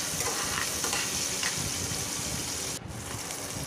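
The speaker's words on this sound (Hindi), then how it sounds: "अब हम यहाँ पे ऑनियन ऐड करेंगे। अब इसे भी हम अच्छे से चला लेंगे।" Onion for homemade fried rice is stir-fried in a pan, giving a continuous, even sizzle and frying hiss with faint stirring scrapes. There is a brief dip near the end, and no one talks.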